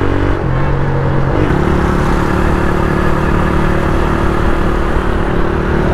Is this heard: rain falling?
no